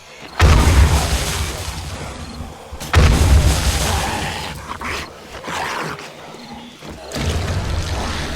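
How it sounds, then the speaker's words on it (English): Heavy booming blasts as a zombie cop explodes during a horde night at a concrete base in the video game 7 Days to Die, two big detonations with rumbling tails followed by lighter impacts, no talk. "Oh man, he just detonated."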